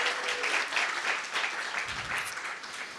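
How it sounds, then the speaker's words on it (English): A conference audience at a talk on writing a dataframe-agnostic library applauds for Luca, producing sustained, even clapping from many hands that tapers slightly toward the end. "Applause for Luca."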